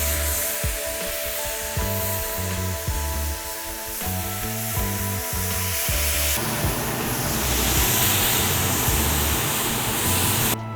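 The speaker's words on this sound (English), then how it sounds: "Now we're gonna hit these pork chops on this nice hot grill pan" Jerk-rubbed pork chops searing on a hot grill pan, a close, continuous loud sizzle with rhythmic clatter and shifting hiss as the meat settles, steady throughout with no talk.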